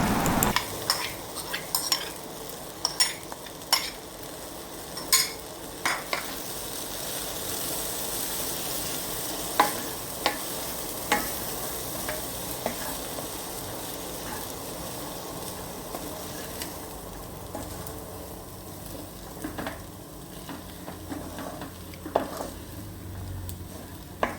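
Sabudana with potato and carrot is stirred in a pan for khichdi, with a steady low sizzle under repeated close clinks and scrapes of a spoon against metal.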